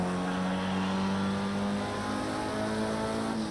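A Formula Ford race car in a sim-racing championship round at Azure Circuit runs at full throttle, its engine a steady, loud, continuous drone with a sustained low tone that holds without letting off.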